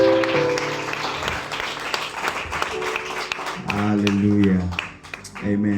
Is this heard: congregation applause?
yes